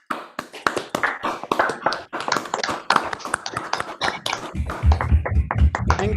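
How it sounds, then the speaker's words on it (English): Audience at a scientific meeting's discussion session giving a round of applause for the organizers, starting as a few distinct nearby claps and swelling into a fuller, continuous clatter of many hands with low room rumble. "join me in a huge round of applause for all the organizers"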